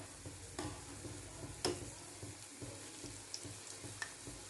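Mysore bonda batter is stirred in a pan over a high flame, with a soft sizzle under a few sharp utensil taps and scrapes, close and fairly quiet.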